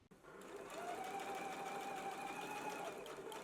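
A sewing machine stitching a skirt seam hums steadily and fairly close for a few seconds after a brief start, with a faint whine over the motor.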